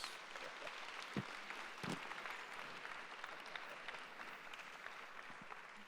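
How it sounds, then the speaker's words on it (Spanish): An audience at a panel discussion in Mexico City applauds steadily throughout, a dense wash of clapping heard from some distance, with a few sharper claps standing out. "I think they deserve claro. a big round of applause."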